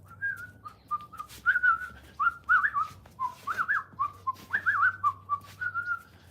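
A person whistles a wavering, tuneful melody of short and sustained notes, clear and close, with brief pauses between phrases and a quiet background.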